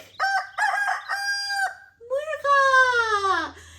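A rooster's crow is imitated by a singing voice in a children's farm-animal song, loud and close, with several short rising calls followed by one long, drawn-out crow.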